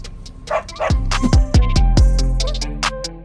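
A dog barks repeatedly at close range, a quick run of loud woofs mixed with higher yips.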